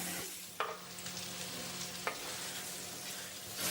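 Mushrooms fry in a pan with a steady sizzle, and two sharp stirring scrapes break through it. The sound is close, with no talking.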